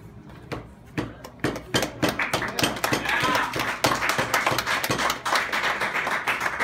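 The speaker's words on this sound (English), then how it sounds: "I wonder why the old ones get more applause than the new ones." An audience at a small stage show claps, starting as a few scattered claps that quickly build into dense, sustained applause close by, with some voices mixed in.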